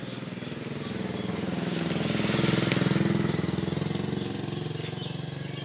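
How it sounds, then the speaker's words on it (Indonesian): A motorcycle is being ridden, its engine giving a steady, throbbing drone mixed with rushing wind that swells slightly in the middle and then eases, with no one speaking. "Asal naik motor."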